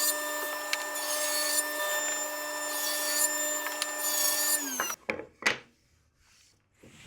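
A table saw rips a thick board against the fence: a loud, steady whining cut holds for several seconds, then the blade winds down, followed by a few knocks and handling thumps.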